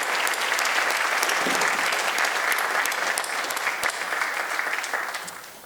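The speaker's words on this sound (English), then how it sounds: "let's give each and every one of our award recipients one last round of applause" Steady, full applause from an audience at a chamber of commerce annual meeting and community award ceremony, honoring award recipients, sustained throughout and tapering slightly at the end.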